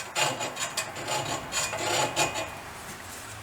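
A straight edge scraping metal on a Triumph 500 Otter engine part, several close, rhythmic rasping strokes that fade into quiet after about two and a half seconds, no talking.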